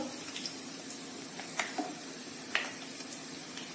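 Sweet bonda fries in oil over a slow flame, giving a soft, steady sizzle with a few faint clicks and spatters. No one speaks over it.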